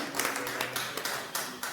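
Applause from an audience welcoming poems at a Hindi poetry book launch, steady crackling clapping throughout, moderately distant and fairly soft, with no talking.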